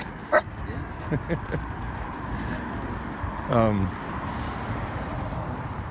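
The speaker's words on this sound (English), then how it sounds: "And oh look, it's a dog." A dog barks once sharply, then gives a few short yips and a whiny vocal, mid-distance over steady traffic noise and a voice.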